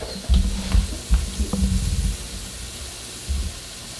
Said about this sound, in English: When you're sauteing onions, always use a little salt.